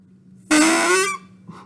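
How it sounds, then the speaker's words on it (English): A homemade straw kazoo gives one loud, buzzy, reedy honk lasting about two-thirds of a second, its pitch rising slightly, then a faint short blip follows. "you can just play your kazoo now"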